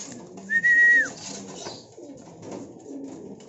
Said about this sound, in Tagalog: Ito mga kalapatids.